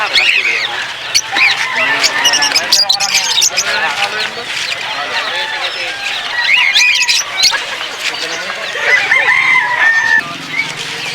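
Several fowl call over a busy, noisy crowd at an animal market; a rooster seems to crow among the clucking and honking birds while people talk nearby.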